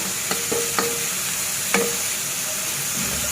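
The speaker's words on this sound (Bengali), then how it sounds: "এভাবে নেড়ে ছেড়ে নিতে হবে শাকটা" Radish greens fry in a pan while being stirred, a steady close sizzle punctuated by a few sharp scrapes and clinks of a spatula against the metal.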